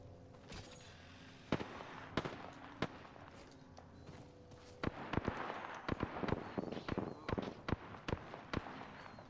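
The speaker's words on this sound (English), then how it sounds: "I am taking fire, friends." Sharp gunshots in the video game Apex Legends pop in scattered bursts, some single and some in quick clusters, over a low game background with faint footsteps.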